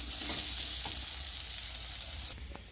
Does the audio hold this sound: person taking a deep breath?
no